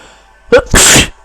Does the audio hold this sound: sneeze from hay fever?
yes